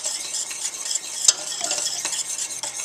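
A whisk stirs milk into a macaroni cheese mixture in a pan, giving a steady, close scraping and swishing with a few light clinks, no voices.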